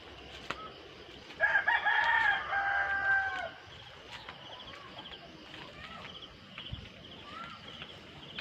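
Chickens at a farm pen, with one rooster giving a loud, close crow lasting about two seconds while softer clucks and background noise continue around it.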